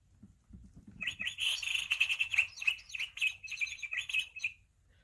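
Several birds sing and chirp in a busy, overlapping chorus, bright and fairly close, after a brief low rumble at the start.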